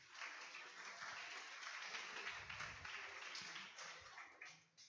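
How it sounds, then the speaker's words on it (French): An audience at a web developer conference gives a round of applause, a soft, steady wash of clapping that sounds fairly distant and fades near the end. "vous pouvez vous applaudir."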